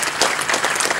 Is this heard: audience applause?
yes